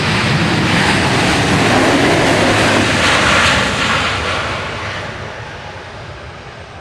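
Boeing 737-800 jet arriving at Dallas Love Field, a loud, steady broadband roar heard alone that holds strong for about three seconds, then slowly fades as the aircraft passes.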